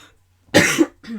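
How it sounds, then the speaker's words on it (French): A single sharp, close cough bursts out, briefly followed by a faint trailing voice. "je tousse encore un peu, ça m'agace"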